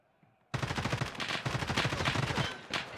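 Rapid automatic gunfire from a shooter video game, a sudden burst of fast repeated loud shots that continues steadily for a couple of seconds after a brief quiet lead-in.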